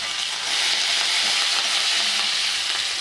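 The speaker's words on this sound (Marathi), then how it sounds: "कांदा टमाटा पण परतून घ्यायचा आहे" Onion and tomato being sautéed in a pan with asafoetida, curry leaves and grated ginger produce a loud, continuous close-up sizzle with stirring, unbroken throughout.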